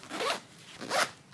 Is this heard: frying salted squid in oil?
no